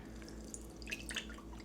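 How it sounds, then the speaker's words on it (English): Marshmallow root infusion strained off into a cup, with faint dripping and light liquid trickles over a steady low hum. "First thing I'm going to do is strain off half a cup of my"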